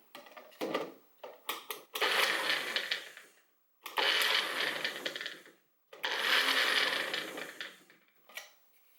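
A Magic Bullet blender struggles with garlic, whirring in three loud bursts of grinding motor noise separated by short silences, with rattling clicks and taps in between as the cup is jostled.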